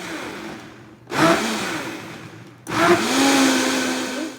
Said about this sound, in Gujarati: આપણે દહીં, ચણાનો લોટ અને આદુ મરચાં અને લગભગ 3 કપ જેટલું પાણી નાખીને એને મિક્સરમાં બ્લેન્ડ કરી નાખીએ।